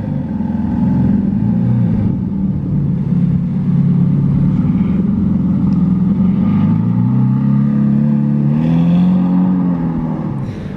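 A Ferrari F8 coupe engine running, a loud, steady low rumble with a smooth rising and falling drone, no distinct start visible, heard continuously throughout with no talk.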